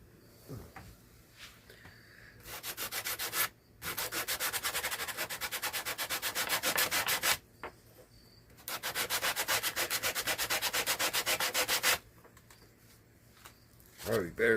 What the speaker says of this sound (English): take a piece of sandpaper, and I'm going to hit the top and get all this cleaned up